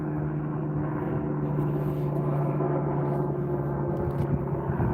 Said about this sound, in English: And there's a helicopter. Orange.